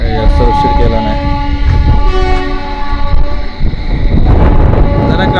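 A Diva–Ratnagiri passenger train pulls into the station at Ratnagiri, loud and close. Its horn blares in sustained tones over heavy rumbling and clattering wheels, and background voices are faintly mixed in.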